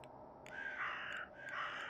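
Crows caw in a video game séance at Blake Manor, harsh repeated calls in two or three bursts, moderately loud over a quiet ambient background, with no talk.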